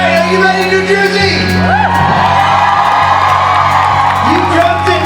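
Convention crowd at a New Jersey fan event cheering loudly, whoops and shouts rising over a steady roar, with a sustained low tone underneath throughout.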